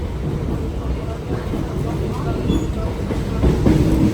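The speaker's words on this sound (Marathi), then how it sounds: "ट्रेन आलेली आहे आमची ती बघा" A train at a station rumbles steadily nearby with a rattling clatter that swells louder toward the end, and indistinct voices murmur underneath.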